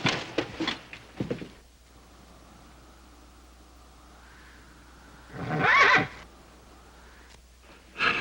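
A horse whinnying outdoors in an old Western setting, loud and shrill at the start, followed by a quiet low hum, then a second burst of neighing and a brief one at the end.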